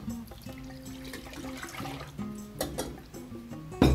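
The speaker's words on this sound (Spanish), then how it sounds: "Le vamos a poner la leche." Milk pours into a pot holding rice and a piece of cinnamon, a short gurgling, bubbling liquid stream, fairly faint and close, ending with a louder splash-like burst.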